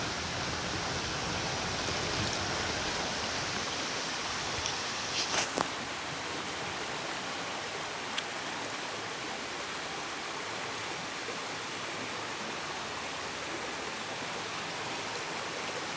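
Asaph Run, a stream running along a roadside ditch, gives a steady, broad rushing wash of flowing water, constant and fairly close, with a few faint clicks over it.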